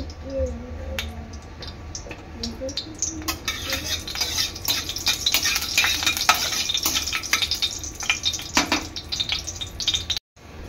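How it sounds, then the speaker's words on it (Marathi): Whole cinnamon, cardamom, clove and peppercorns fry in ghee, making a crackling sizzle with scattered pops and spoon scrapes that gets busier after the first few seconds. The sizzle is close and moderately loud, with no talk. "हा खडा मसाला आहे ना, चांगला तुपामध्ये परतून घ्यायचा आहे।"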